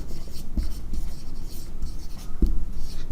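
A pen writes on paper during a mathematics lesson, making continuous close scratching strokes with a couple of sharper taps. No one speaks.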